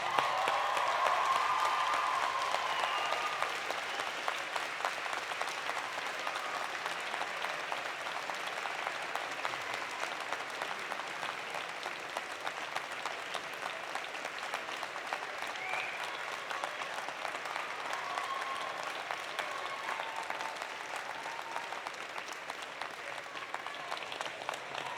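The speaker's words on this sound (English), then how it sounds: "give them a huge round of applause." Sustained applause from a large audience at a University of Alberta spring convocation, with dense, even clapping that holds steady and slowly eases over a long stretch.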